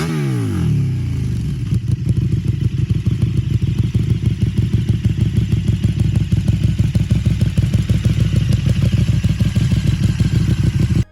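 A KTM LC8 V-twin motorcycle engine with uneven firing intervals runs close and loud, settling after a brief opening into a steady, lumpy, pulsing idle rhythm that continues until an abrupt cutoff.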